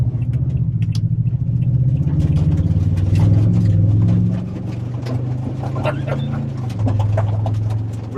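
A 2019 Toyota Tundra TRD Pro CrewMax pushing through mud gives a steady, loud low engine rumble that swells and eases, with faint splashes and knocks on top and voices talking over it.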